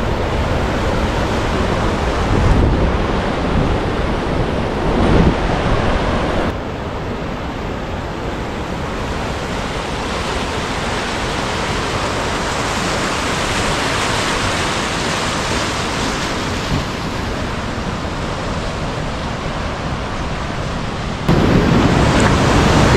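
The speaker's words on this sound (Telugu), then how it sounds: "వాటర్ ఫ్లో చూడండి." Water rushes steadily at the Pavana Lake dam along the Tamhini ghat road, a loud, continuous roar of flowing water mixed with wind buffeting the microphone.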